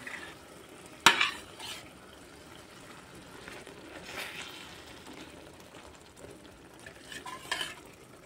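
Raw boal fish pieces, marinated in oil, salt and turmeric, go one by one into spiced oil in a pan for a Sylheti tel jhal, a soft close sizzle with a sharp clack early on and occasional stirring.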